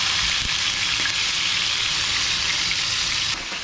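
Smash burger patties for a blue cheese burger fry in a small pan, giving a loud, steady, close sizzle that runs unbroken and drops off sharply at the very end.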